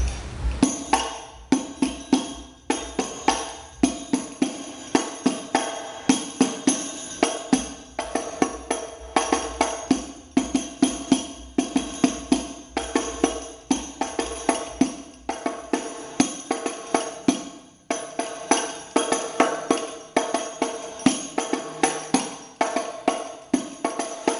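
Hadroh frame drums play a steady interlocking rhythm, dense repeated hand strikes with deep thumps and sharper slaps, loud and close with no voices.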